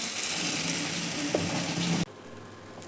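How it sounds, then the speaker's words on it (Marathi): Appe batter hits hot oil in an appe pan, a loud continuous sizzle with a few clicks that cuts off abruptly after two seconds, leaving a quieter background hiss. "तेल पण टाकून घेतलं आहे आता आपण मिश्रण टाकून घेणार आहोत"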